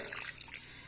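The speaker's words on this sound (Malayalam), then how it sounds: "ശകലം വെള്ളം ഒഴിച്ച്" A little water poured into jaggery in a pan to melt it for a fried snack batter: a brief, soft, close splash and trickle of liquid.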